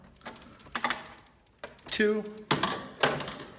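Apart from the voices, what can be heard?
twisting out a knockout in a metal service panel with screwdriver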